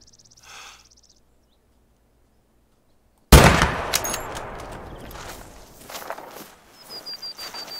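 A single loud, sharp rifle shot cracks out at a mouflon in the hunting game theHunter: Call of the Wild after a few seconds of silence. The shot echoes and decays, followed by faint rustling footsteps and insect chirps.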